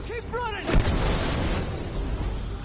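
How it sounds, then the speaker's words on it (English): Explosions in The Last of Us video game boom and rumble in a loud, continuous soundscape, with a sharp burst near the start and crackling debris under brief tonal chirps. "It's just explosions all around."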